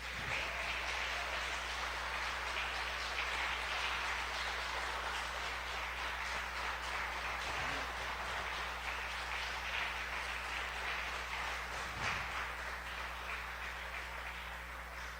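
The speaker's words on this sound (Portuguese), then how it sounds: "Você pode dar mais um aplauso para Ele?" A church congregation applauds during a worship service, sustained dense clapping that stays steady and fairly distant for about fifteen seconds, with a low hum underneath.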